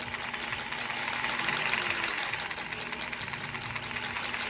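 A sewing machine stitches circles, running continuously with a fast, even mechanical whir and rapid needle clatter at moderate volume, no talking.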